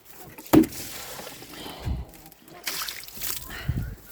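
Water sloshes and splashes in a container as it is carried to chickens, in irregular bursts with a sharp knock near the start, fairly close.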